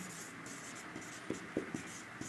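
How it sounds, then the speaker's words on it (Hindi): Marker or chalk writing a definition on a classroom board during a Class 9 polynomials lesson: a few soft scratchy strokes and taps, faint and close, with no voice over them. "देखिए डेफिनेशन लिखता हूँ"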